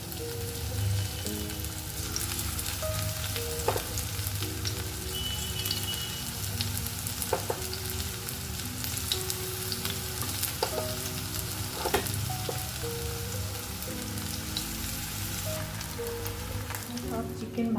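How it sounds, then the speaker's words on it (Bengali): Chicken pieces fry in oil over a low gas flame for chili chicken, a continuous close crackle and sizzle with scattered pops and faint clinks throughout. "সব চিকেন ভাজা হয়ে গেছে।"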